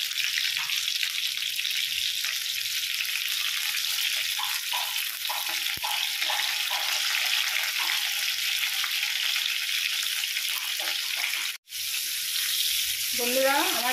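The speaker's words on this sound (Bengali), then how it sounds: "তেলটা গরম হয়ে গেছে, এবারে পটলগুলো দিয়ে দিচ্ছি।" Slices of pointed gourd sizzle and fry steadily in hot oil in a pan, a loud continuous crackling hiss that runs throughout with occasional stirring scrapes.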